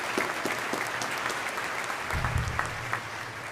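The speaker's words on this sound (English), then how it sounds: "a round of applause for our Naval Postgraduate School president" Graduation audience at the Naval Postgraduate School's spring ceremony applauding their president, a large crowd's steady clapping heard from a slight distance, even and sustained, with a low rumble near the end.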